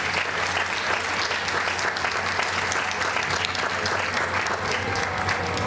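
Audience applause at an International Women's Day award ceremony, continuous dense clapping from a large crowd, loud and sustained with no gaps, a little faint chatter beneath.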